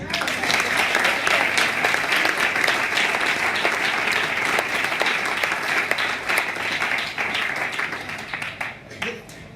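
Church congregation applauding, loud continuous clapping from many people that holds steady for several seconds before easing off, with some voices mixed in.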